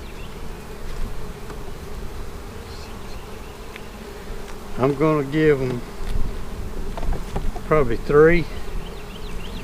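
Honey bees buzz steadily around an open hive during an inspection in a bee yard, a dense close hum, while someone speaks briefly partway through.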